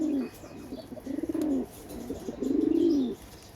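Three deep, rolling coos from a pigeon close by, each swelling and fading, spaced about a second apart against quiet surroundings.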